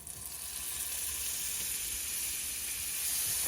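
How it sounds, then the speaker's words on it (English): Butter sizzles steadily in a frying pan alongside small bits of beef for cubed steak, a close, even hiss and crackle that grows slightly louder toward the end with no talking. "let's hear the sizzle"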